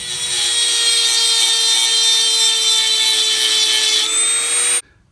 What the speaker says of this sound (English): and I ground the next one